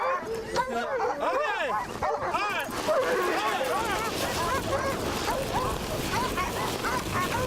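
A pack of sled dogs on a mushing trail barks, yips and whines in a dense, excited chorus, loud and close throughout, with a voice talking over the din.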